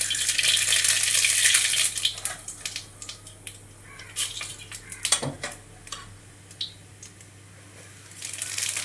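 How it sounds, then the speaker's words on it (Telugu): Tempering spices (cumin, chana dal, urad dal and mustard seeds) fry in oil in a pan, a crackling sizzle strongest at first that thins into scattered pops and clicks. "పోపు దినుసులు వేసుకుందాం."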